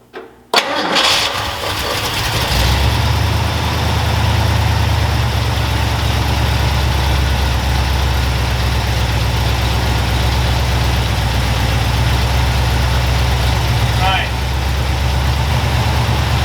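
A 1969 Ford F250 Crew Cab engine, long abandoned, cranks and catches, then settles into a steady, rumbling idle close by, running evenly for the rest of the clip.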